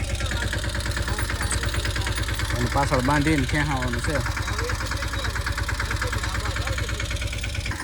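A stuck mini tractor's engine idles with a steady, loud mid-pitched chug and knocking pulse throughout, while someone talks over it in the foreground.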